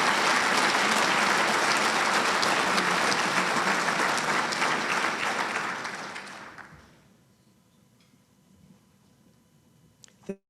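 Audience applause at a military installations and logistics awards dinner, a dense, steady round of clapping that fades out after about six seconds, leaving near-silence with a faint tap at the end.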